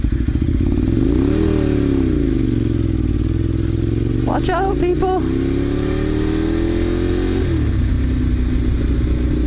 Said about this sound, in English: It's got a great sound to it with the V-twin engine.